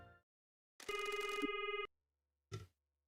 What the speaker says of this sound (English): we should phone Mr. Sato.